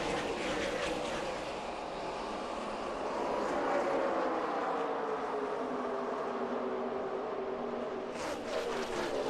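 NASCAR stock cars roar off at the start of the 2010 Southern 500, a dense, sustained engine drone from the pack that rises and falls slightly, heard at a distance and fairly loud throughout.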